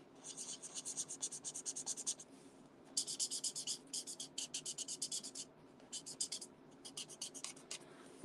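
A bullet-tip marker blends ink on a handmade card, its rapid rhythmic scratchy strokes coming close and crisp in two bursts, with a brief pause between them.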